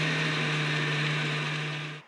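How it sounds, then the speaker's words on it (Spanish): An electric blender whirs continuously while blending a marinade for a roast pork leg, loud and steady close by, then cutting off abruptly at the very end. "Y aquí continuamos licuando."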